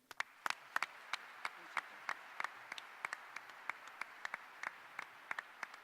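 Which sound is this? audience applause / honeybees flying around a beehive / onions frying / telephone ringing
audience applause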